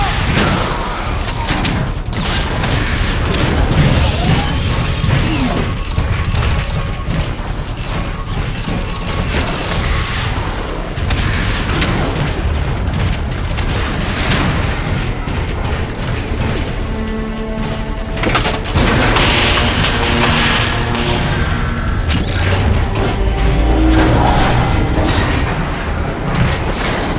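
Grenade blasts and gunfire pound without pause through a Transformers: Fall of Cybertron battle, with loud repeated booms and metallic clatter filling the scene.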